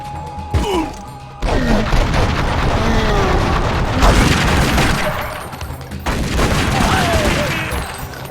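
Gunfire in the Tomb Raider: Legend video game: loud bursts of shots and crashing impacts over a busy game soundtrack, dropping briefly before resuming in dense volleys.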